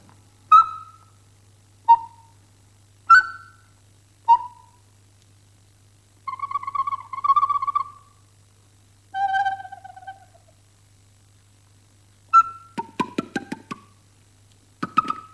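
A recorder-type flute imitates a bird call: several short hooting notes, then longer wavering phrases and a quick burst of trills near the end, played clearly and alone.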